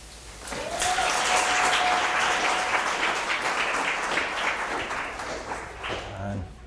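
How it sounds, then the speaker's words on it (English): Audience applause for a speaker at a real-estate seminar, a steady wash of many hands clapping that swells quickly and holds loud throughout, with a faint tone and a brief voice near the end. "Ladies and gentlemen, can we get one more round of applause for your speaker, Jack Harvey, today?"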